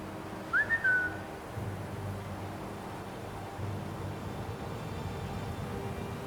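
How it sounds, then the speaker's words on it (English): A short rising whistle to call a companion in modded Skyrim, sounding once near the start, followed by a low, steady background hum. "can I whistle Inigo?"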